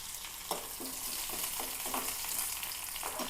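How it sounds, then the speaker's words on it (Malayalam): Fresh curry leaves fry in hot oil, a steady bright sizzle broken by a string of sharp crackling pops at irregular intervals, close and fairly loud with no voices. "ഇതിലേക്ക് ഒരു തണ്ട് കറിവേപ്പില ഇടാം കേട്ടോ"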